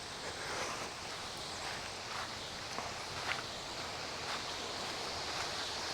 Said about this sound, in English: You probably can't tell with the wind block that I have on the microphone, but the wind it's a moving.